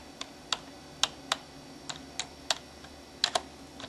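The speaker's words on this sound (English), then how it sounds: "Press the correct number on your keyboard to complete the times table." Number keys on a computer keyboard are tapped in about a dozen crisp, unevenly spaced clicks, close and fairly quiet with no talk.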